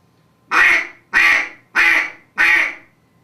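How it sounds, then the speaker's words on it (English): Four short, evenly spaced duck-call quacks blown on a reed call with plain breath pressure and no tongue placement, each a raspy, nasal honk, loud and close with silence between. "If I do a quack without putting my tongue up to the top of my mouth, this is what you get."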